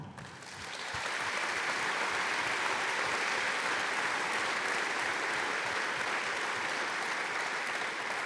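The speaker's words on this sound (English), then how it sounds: "please give them a warm applause now" An audience at the AWS 2023 opening applauds the event organizers, a dense, even wash of clapping that swells in after a moment and carries on steadily to the end.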